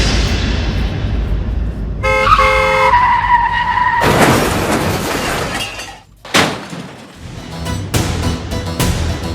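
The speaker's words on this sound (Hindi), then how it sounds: "आपने मेरी गाड़ी ठोक दी।" A car skids with a tonal tire squeal and then slams into another car, with a loud crunching impact and scattered breaking-glass sounds, followed by more rattling debris and bumps, close and loud throughout.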